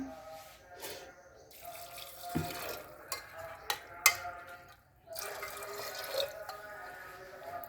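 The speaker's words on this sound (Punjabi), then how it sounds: "ਹੁਣ ਆਪਾਂ ਇਹਦੇ ਵਿੱਚ ਪਾ ਦੇਾਂਗੇ ਪਾਣੀ" Water runs and splashes into a pot of chana dal and spices at close range, with intermittent clinks and drips and a brief pause near the end.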